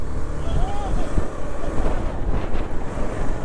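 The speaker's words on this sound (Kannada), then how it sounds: "Heavy wind blast." Heavy wind buffets the microphone during a monsoon motorcycle ride in Kerala, a loud continuous rumbling roar with gusty swells that never lets up across the whole stretch.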